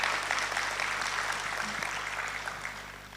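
An audience at a correctional services week event claps steadily in a hall, a full, sustained round of applause that fades slightly over a few seconds.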